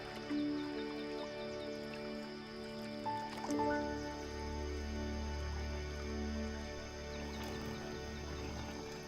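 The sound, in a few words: giant tortoises wallowing in muddy shallows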